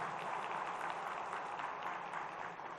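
Faint, distant applause from a church congregation during a sermon, an even wash of clapping holding steady for a few seconds before thinning out.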